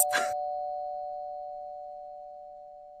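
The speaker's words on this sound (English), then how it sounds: "I'm gonna go up, ring the doorbell." A doorbell sounds once at a front door in a tabletop role-play game, a short chime followed by a long, steady sustained tone that slowly fades.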